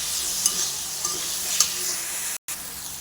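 Fish being stirred through a frying spice mixture in a pan, a continuous sizzle with a few scraping stirs, close, broken by a brief cut near the end.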